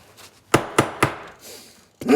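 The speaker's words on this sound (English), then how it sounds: "It will not start because of the hammering" Hammer blows on a bolt in a home garage workshop: three sharp metallic strikes in steady succession, then a pause and a fourth hit, close and loud with no talk.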